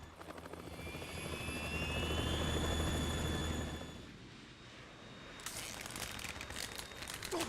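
Harrier jet in Metal Gear Solid 2, a droning engine roar that swells to a loud peak, eases down, then returns with a hissing rush, fairly distant under game ambience.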